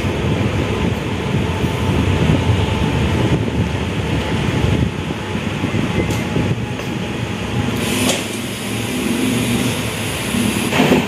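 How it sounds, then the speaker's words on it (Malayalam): The Kerala Express rumbles at Varkala railway station in Kerala, a loud continuous roar of rolling carriages with wind buffeting the microphone and a few sharp clanks. "അപ്പോൾ വർക്കല റെയിൽവേ സ്റ്റേഷനാണ് ഫ്രണ്ട്സ് എത്തിയിരിക്കുന്നത്."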